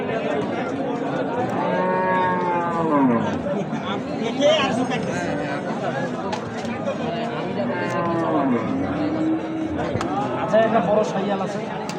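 Sahiwal bulls low and moo repeatedly at a cattle sale, long drawn-out calls close by, with faint chatter in the background.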